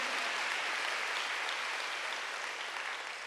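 Church congregation at a Wednesday worship service applauding, a dense, sustained wash of clapping from many hands that carries evenly throughout and tapers slightly at the end.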